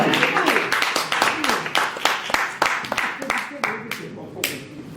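An audience claps at a press conference in Paris, producing a dense, continuous patter of hand claps from many people that runs for several seconds, with some voices underneath.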